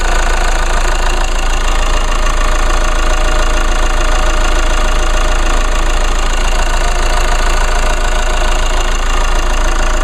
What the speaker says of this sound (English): that is a 2-liter 4-cylinder turbo diesel engine.